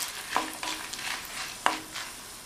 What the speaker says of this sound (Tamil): அது கூட 4 காஞ்ச மிளகாவை சேர்த்துட்டு லைட்டாக வறுத்துக்கலாம்.